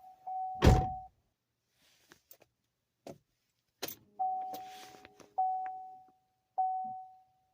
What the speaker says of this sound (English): that's the door chime with the original radio